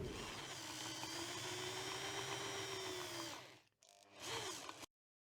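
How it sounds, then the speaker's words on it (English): A power drill whines steadily while drilling into metal on a cheap mini bike, running loud and close for several seconds, dropping briefly, spinning up again, then cutting off. "So I'll see if I can drill it."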